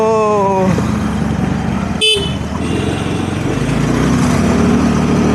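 A car starts up and drives off. A short horn-like tone sounds first, then a sharp clunk, and a close, steady engine rumble follows as the vehicle pulls away.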